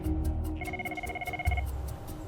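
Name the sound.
scramble phone ringing at air ambulance helicopter base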